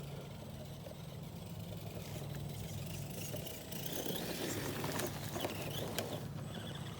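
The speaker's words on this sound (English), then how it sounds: "And that motor sounds so nice and smooth." Remo Hobby RC trail truck with its electric motor upgraded and run on a 1080 controller, giving a steady, smooth whine and low hum with some gravel crunch and clatter, close by and getting louder toward the end.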